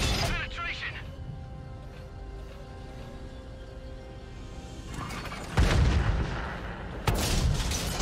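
Tank cannon fire at a T-72A in the World of Tanks console game, with sharp, loud blasts near 5.6 and 7.1 seconds over a steady rumbling engine and battle background.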